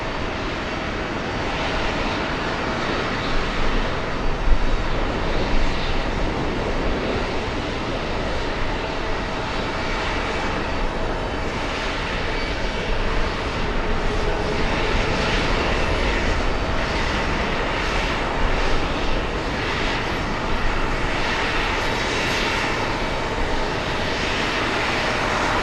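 A Kuwaiti Boeing 777 jet airliner arriving at JFK airport, a loud continuous broadband engine roar that holds steady for the whole stretch, with no voices.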